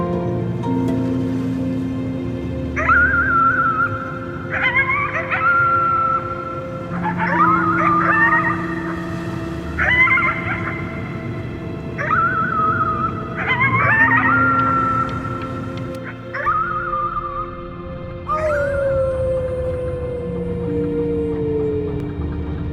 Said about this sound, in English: You howled at the moon